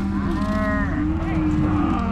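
Calves bawl loudly and close at a Montana ranch roundup during shipping time, several overlapping moos with rising and falling calls filling the whole stretch, no talk.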